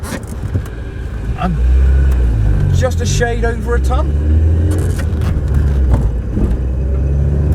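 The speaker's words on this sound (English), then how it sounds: "The engine just wants to rev and sounds fantastic when you get more revs on." A 90-horsepower Alpine car weighing about a ton, its engine droning loudly and steadily as it pulls under acceleration, with someone talking over the engine noise throughout.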